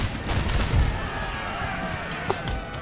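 Artillery in Napoleon Total War (Darthmod) fires a barrage of heavy booms and sharp cracks over a noisy battlefield, with a voice faintly present in the mix.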